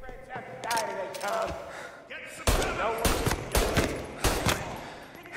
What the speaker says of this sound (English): How do you take that many shots, bro? Come on. Shotgun.